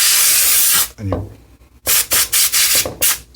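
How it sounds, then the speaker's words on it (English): Compressed air blasts into the cooling fan of an HP ProBook 4530s laptop during cleaning: a long loud hiss, then a pause, then several short bursts in quick succession, with a brief spoken word between. "spray a little air into the end."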